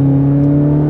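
Chevrolet Corvette Z06, a 2023 model with a 670 hp engine and 8,600 rpm redline, holds a loud steady high-revving engine note with strong harmonic whine, close and sustained with no talk.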